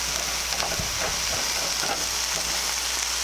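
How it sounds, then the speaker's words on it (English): Red onion sweating in a pan for a home-cooked stew, a soft continuous sizzle with faint intermittent stirring taps. "Just sweat the onions slowly."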